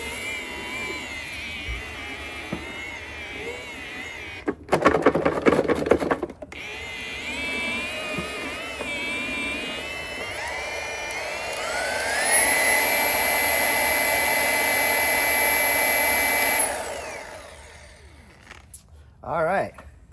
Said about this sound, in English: I'm gonna grab the rotary and spin these out